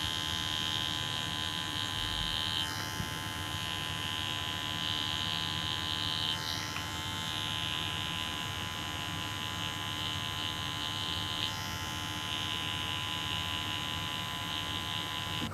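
A permanent makeup tattoo machine runs steadily on skin while pigment is worked into a realistic areola, giving a continuous electric hum and buzz with faint pitch shifts as the needle moves, close and alone without talk.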